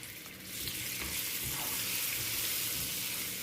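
Dry nuts and half a tablespoon of butter sizzle in a pan of caramel for butterscotch ice cream. The frying hiss is steady and close, with a soft stirring scrape, and it swells slightly after the first half-second.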